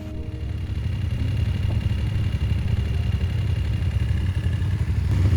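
A loud, steady engine rumble idles close by, with a low rhythmic throb and light mechanical clatter running throughout.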